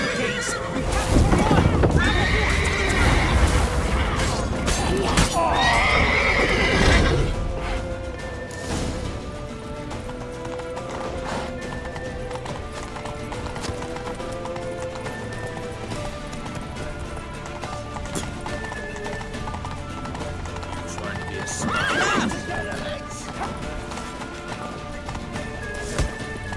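A horse gallops in The Witcher 3: Wild Hunt with rapid hoofbeats and loud whinnies early on, then hooves keep pounding more quietly beneath another neigh later.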